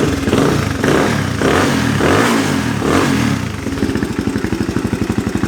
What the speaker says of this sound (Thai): ผมจะเบิ้ลฟัง ให้ฟังเสียงครับ